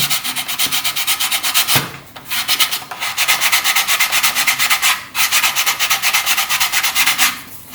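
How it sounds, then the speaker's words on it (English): A glued part of a Dalek model is sanded by hand in fast, steady back-and-forth strokes, giving a continuous rhythmic scratchy rasp close up with a few brief pauses. "I'll just be rubbing that down like that, tidying it up as best I can."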